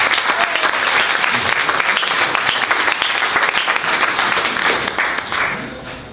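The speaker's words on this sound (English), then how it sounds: "please join me in a round of applause to Malvern Books in appreciation for their location tonight." Audience applause fills an evening event at Malvern Books, a bookstore, in honor of the venue. The clapping is loud, dense and steady, with a slight trail-off near the end.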